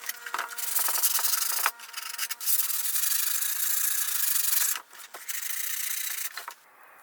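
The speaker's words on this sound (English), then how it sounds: "Sand the already painted part of the hull that is going to be painted above the masking tape." Sandpaper rubs steadily across the painted wooden hull of a model warship, a dry, close scratching in long continuous strokes broken by a few brief pauses.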